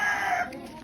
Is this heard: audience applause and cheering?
no